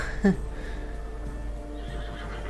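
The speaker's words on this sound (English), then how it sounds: "Es un caballo." A horse in The Witcher 3 gives a short, loud neigh near the start, followed by quieter breathy sounds over a low steady hum.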